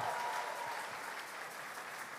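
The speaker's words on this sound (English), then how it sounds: "Just clap for yourselves." A church congregation at a conference session claps for themselves, a continuous, soft, even spread of applause that sounds somewhat distant.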